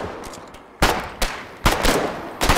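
Bursts of automatic machine gun fire in the war game Foxhole, several loud staccato volleys separated by short pauses, close and sharp against a quieter background.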